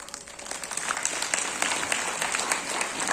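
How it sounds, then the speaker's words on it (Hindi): Audience applause rising and holding steady, dense overlapping clapping from a room full of people, moderately loud and continuous. "we give her a big clap"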